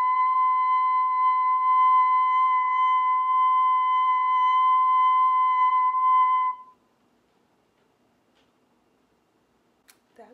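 A singer's high vocal whistle-register attempt: a steady, piercing pure tone with faint overtones, held loud for about six and a half seconds, then cut off into near silence.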